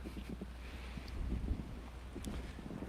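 Gusty wind buffets the microphone with low rumbling rushes, steady throughout with a few stronger surges.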